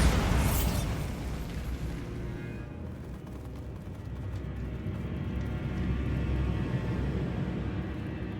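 A Bombarda explosion spell in the Hogwarts Legacy video game, one loud burst at the start that decays into a long, dense rumbling roar of debris and ambience.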